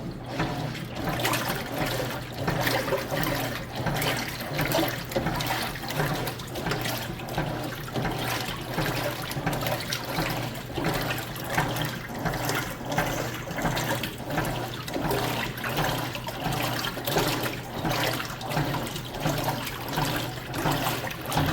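A Maytag commercial top-load washer fills with water, a steady rushing and splashing stream that runs continuously and fairly loud throughout, with no talking.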